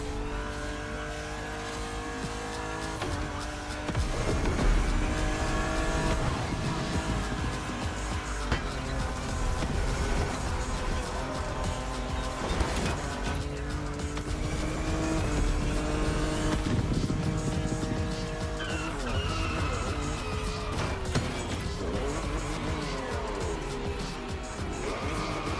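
Engines roar as a BMW races and crashes in The Crew Motorfest multiplayer video game, with loud sustained revving, repeated pitch climbs through gear changes, and sharp impact bursts along the way, all without talk.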